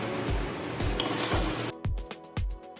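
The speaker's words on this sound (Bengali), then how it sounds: "এবার ভাজা মাংসগুলো দিয়ে দেবো এর মধ্যে।" Fried chicken pieces tipped into sizzling chilli chicken sauce in a pan and stirred, with a low sizzle under repeated scraping strokes of a spatula roughly every half second, close and clear.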